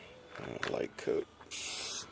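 Vinyl dye is spray painted in a light coat onto Mustang cup holders, a short close hiss bursting out after a few brief spoken words.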